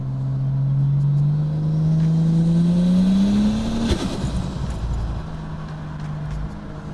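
A street car with a Barra six-cylinder engine, built from a BA to FGX, is held on the brakes and revved, its note climbing steadily for several seconds before dropping off to a rough, burbling idle.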